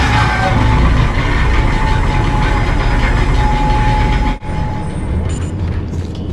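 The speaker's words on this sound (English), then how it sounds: "We're on the tram now." Tram ride in the game Dead Space Extraction, a dense continuous mechanical rumble and drone with a steady whine, briefly dropping out before resuming with some higher clanks.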